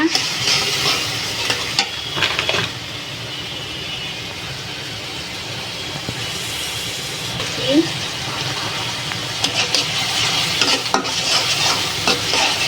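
Masoor-style dal fries in a pan with ginger and cumin paste and turmeric, a loud steady sizzle broken by scraping stirs and spoon knocks throughout.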